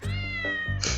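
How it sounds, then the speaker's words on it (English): A cat meows in the video game Shadowverse, a single loud, clear, drawn-out meow that rises at the end and lasts about a second. "It was the cat! It took my phone!"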